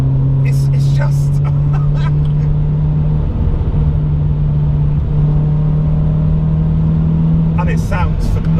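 A modified car's engine drones loud and steady from inside the cabin as it drives fast through a run of bends, with brief bursts of higher noise near the start and end.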